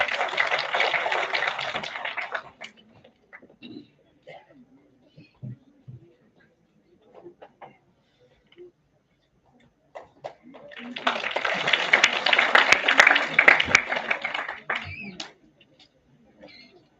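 Two bursts of applause from a seminar audience clapping for speakers: a full round at the start dies away, then near-silence with faint stray sounds, then a second strong round swells and fades.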